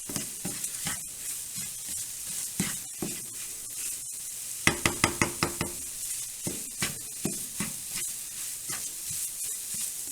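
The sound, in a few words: eggs and bacon frying in a pan for breakfast burrito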